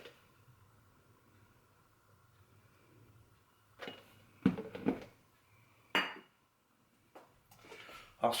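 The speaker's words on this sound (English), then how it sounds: "I'll stir to combine." A spoon handle scrapes and knocks against a bowl while stirring flour and water for whole wheat bread dough, a few short, distinct clinks and scrapes breaking a quiet room after several seconds of near silence.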